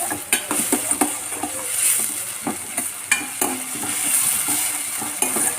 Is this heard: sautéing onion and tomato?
yes